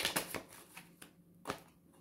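A tarot card is drawn from the deck, giving a handful of faint, crisp card rustles and flicks close by in a quiet room.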